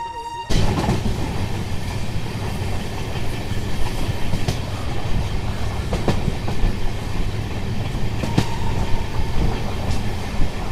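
Kolkata to Sairang express 13125 rolls steadily along the rails, a loud continuous rumble with rhythmic clickety-clack beats and occasional sharp wheel-joint knocks, heard from on board throughout.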